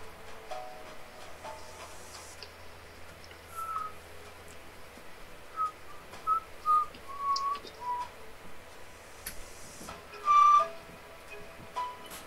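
People whistle faint, brief wavering notes indoors, a few short tones scattered over a quiet hum, ending with one louder held whistle.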